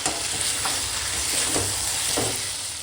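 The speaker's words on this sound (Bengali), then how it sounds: "দেখো তো দেখো মাটনটা কষাতে কষাতে এখন তেল ছেড়ে দিয়েছে" Mutton with ground chilli and spices sizzles and is stir-fried in hot oil in a pan, a steady loud frying hiss broken by a few scraping stirs of the spatula, with no talking.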